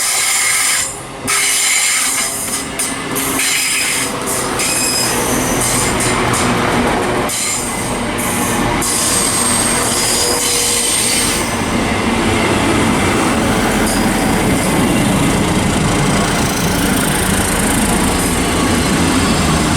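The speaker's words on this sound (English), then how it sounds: "making its way into platform 9 now is a terminating ScotRail service from Aberdeen. It's a 170 and a 158 it looks like." A ScotRail class 170 and class 158 diesel pair runs into a terminating platform at Stirling, loud and close, with rumbling engines, rolling wheels and bursts of high squeal building steadily. No one speaks.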